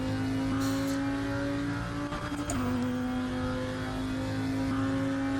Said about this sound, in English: I don't know if you can hear that slight weirdness in the engine note there.